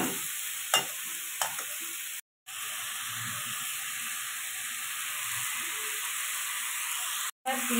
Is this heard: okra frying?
yes